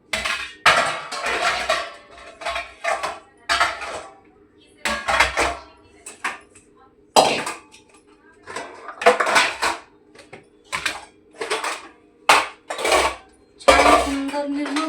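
Dishes and pots clatter as they are washed in a home kitchen, with repeated close clinks and bangs in irregular bursts separated by brief pauses.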